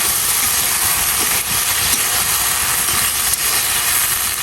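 Spices sauté in a pan for fish curry, giving a steady, loud broadband sizzle and hiss that barely varies, with no voices.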